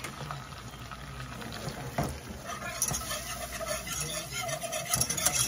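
Flour and butter roux is whisked in a pan, producing a continuous soft scraping and bubbling texture up close with faint rhythmic whisk strokes, under a low background hum.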